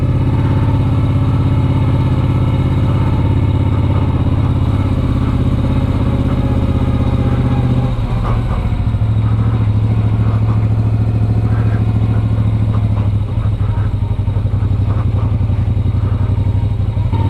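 A Moto Guzzi V35 motorcycle ridden through the city streets of Trento, its engine a loud, steady low throb heard up close from the rider's position, with rev changes and clattery bumps partway through.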